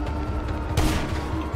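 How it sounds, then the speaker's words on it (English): Gunfire in GTA Online: a single loud volley of shots bursts out partway through, over a steady low game background. "How many times I gotta shoot this"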